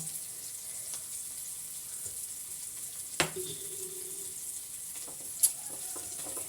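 Sardines frying in a pan over a medium flame, a faint steady hiss of oil with a couple of sharp clinks and a brief scrape of the pan, no talk.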